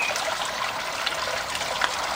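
Water trickles steadily through the fine mesh of a pond pump's sieve pre-filter, making a close, continuous splashing hiss with small droplet plinks and no break in the flow.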